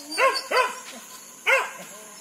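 A dog barks during a wild boar hunt, giving three sharp barks: two close together, then one more after a pause. The barks sound moderately near and loud.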